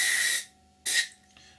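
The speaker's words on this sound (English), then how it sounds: "So sort of using stabbing motions to spray the inside." Airbrush spraying paint in short bursts into the inside of a scale F-16I Sufa model part, two strong hissing blasts separated by near silence, followed by a faint trailing puff.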